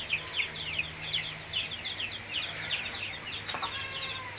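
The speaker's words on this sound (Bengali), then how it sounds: "তো এই যে একটা মোরগ" Chickens cluck in quick, repeated bursts close by, a rooster among silkie and Brahma chicks, with a faint low hum running underneath.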